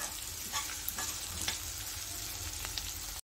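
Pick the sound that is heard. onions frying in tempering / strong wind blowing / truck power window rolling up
onions frying in tempering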